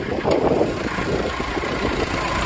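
A 2007 Mahindra Scorpio engine idling, an even, steady mid-pitched rumble heard close up and alone with no talk.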